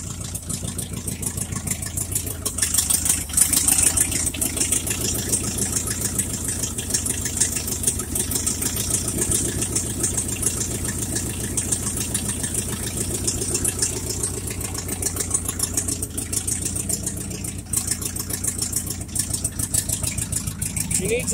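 A carbureted Jeep engine idles steadily and close by for about twenty seconds after its idle was turned up slightly. It runs at an even, slightly uneven-firing rumble.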